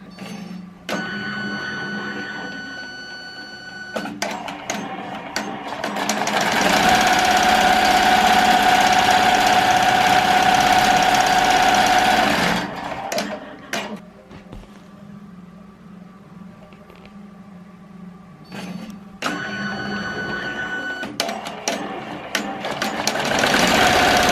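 A Melco EMT16X embroidery machine stitches applique pieces onto a shirt, a fast mechanical chatter and hum that rises to a loud steady run, quiets during a pause, then resumes near the end.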